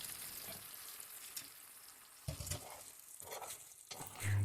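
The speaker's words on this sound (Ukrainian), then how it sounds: "тепер соус можна виливати в сковорідку на крильця" Honey-soy sauce sizzles and spatters as it is poured into a hot frying pan of chicken wings, a soft steady crackle with bursts of louder hissing as it is poured and stirred.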